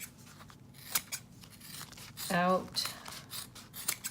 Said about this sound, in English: Now that I have it in a more workable size, I can cut it out much easier.